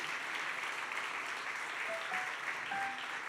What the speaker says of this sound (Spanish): Puede darle un fuerte aplauso a la presencia del Señor